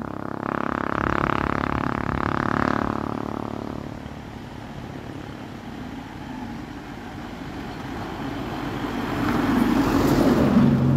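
Truck passing on a road, a loud engine rumble rising close by then fading away, followed by more traffic noise building again near the end.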